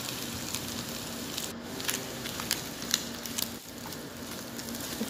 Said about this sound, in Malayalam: ഇനി ബീഫ് നന്നായി ഫ്രൈ ആക്കി എടുക്കാം ഇടയ്ക്കിടയ്ക്ക് ഇളക്കിക്കൊണ്ടേയിരിക്കണം